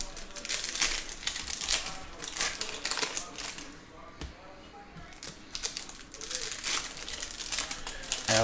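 Foil Bowman trading card packs from a 2022 hobby box are torn and crinkled open, a steady rustling crackle with sharper crinkly bursts, close up, with talking underneath.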